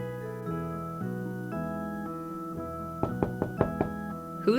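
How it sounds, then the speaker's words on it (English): About five quick knocks on a door, sharp and fairly loud, rising above soft background music in a children's wooden-toy play scene. "Who's knocking on the door?"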